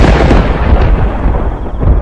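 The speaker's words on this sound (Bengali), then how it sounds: "রাতের কালো আকাশের ঠিক ঈশান কোণ বরাবর কর কর করে একটা বাজ পড়ল।" A cartoon thunderclap crashes in the night sky, a loud, sustained rumbling roar with heavy low-end booms that rolls steadily for about two seconds without pause.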